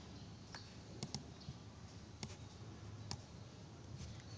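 Keys clicking faintly on a computer keyboard while Ctrl M is pressed in Microsoft Word, heard as a few scattered sharp clicks over steady background hiss, with no speech.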